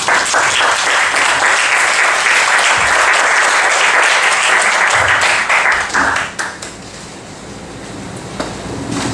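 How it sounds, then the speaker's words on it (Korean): A church congregation applauds loudly to welcome the pastor to the pulpit, a dense, sustained wash of clapping that fades out after about six seconds into quieter room noise. "오늘도 목사님 나오실 때 박수로 환영하겠습니다."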